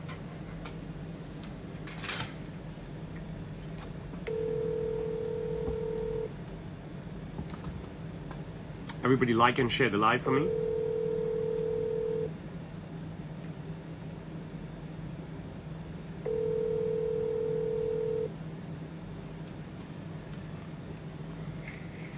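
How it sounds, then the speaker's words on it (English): Telephone ringback tone for an outgoing call during a livestream, heard as three long, evenly spaced steady tones with a brief burst of dialing or line noise between them, while someone speaks briefly. "So let's go to the first caller, who is in Chicago, and I hope he picks up the phone."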